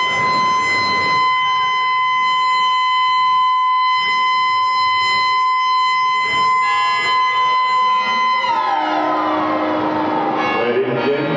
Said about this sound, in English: Siren to remember.